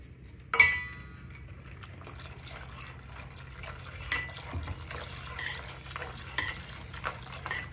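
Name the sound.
stirring custard powder mix into milk on stove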